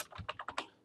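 Fingers tapping keys on a computer keyboard, about six quick, close keystrokes in a short burst, crisp and moderately loud with no voices over them.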